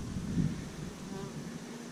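Honeybees buzz close by during a summer hive inspection, a soft continuous hum with a brief louder swell near the start and no talk.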